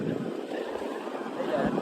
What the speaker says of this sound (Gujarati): તમને વધારે પવનનો અવાજ આવતો હોય છે અહીં નો